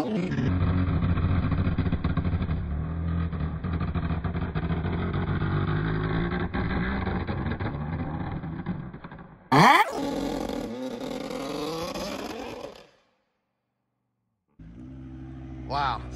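Tuned Audi RS3 launching hard down a quarter-mile drag strip, a loud sustained engine roar climbing through the revs with a brief sharp burst and a shift, then cutting off before a quieter engine returns.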